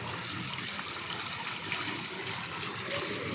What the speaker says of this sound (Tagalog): at umaandar yung fountain